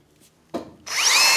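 A RUKO 3-in-1 step drill bit bites into 4 mm steel sheet at the second step: a short knock, then a sustained high, whining grind as the bit cuts steadily and close.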